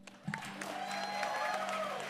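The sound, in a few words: crowd applause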